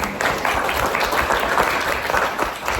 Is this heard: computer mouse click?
no